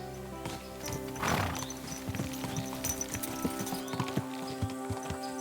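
A horse's hooves clip-clop at a steady walking rhythm in the video game Kingdom Come: Deliverance 2, the close, regular clopping layered over sustained ambient music.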